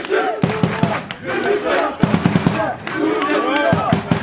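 Football fans at a local derby match in Turkey chant and shout together in the stands. The loud, rhythmic crowd voices are punctuated by sharp bursts of clapping.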